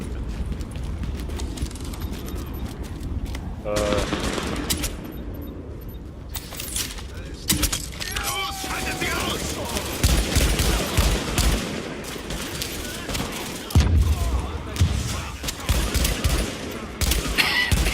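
Shots from a strong, heavy-recoil crafted weapon in the video game The Division ring out in repeated bursts and single cracks over about eighteen seconds, mixed with other game effects, while someone talks at times.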